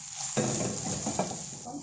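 Onions frying in a pan and being stirred give a brief, close sizzle with scraping stir strokes, bursting in after a short quiet start.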